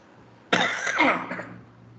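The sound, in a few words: cough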